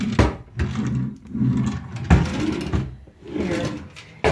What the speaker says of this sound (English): Now this is drawers for storage here.